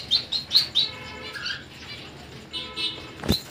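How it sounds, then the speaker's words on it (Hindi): Red Bengali finches chirping: a series of short, high tweets clustered at the start, then scattered calls and a final sharp chirp, moderately close against a soft, noisy background with no talking. "ये देखो भाई ये होते हैं रेड बंगाली फिंच, बहुत अच्छे लगते हैं उसे।"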